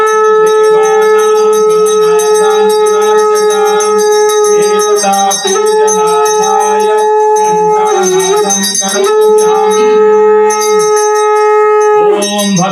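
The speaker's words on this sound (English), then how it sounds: "So now we will ring the bell and blow the conch." A bell rings steadily and loudly throughout a Hindu puja for Hanuman Janmotsav in Tokyo, Japan, its sustained metallic tones layered with a continuous droning blast that fits a conch being blown.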